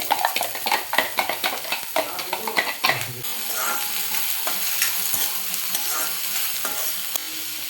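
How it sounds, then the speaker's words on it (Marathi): Onions go into a pan where green chillies are frying, for a wild-vegetable monsoon dish. Quick rhythmic spatula scrapes and clatter come first, then a smoother, continuous sizzle, all close by, with no speech. "मिरच्या परतला गेल्या ना की आपल्याला हा कांदा घालायचा आहे."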